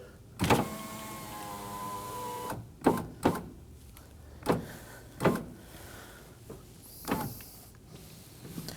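Rear power window regulator on a Nissan Armada from 2017 to 2024, with a loud mechanical thunk and a whirring motor, followed by several separate clunks and knocks spaced a second or so apart, close up with no talk.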